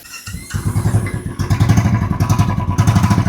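A Bullet motorcycle engine, just repaired of a ticking problem, catches after a brief clatter and settles into a loud, rhythmic thumping idle close by.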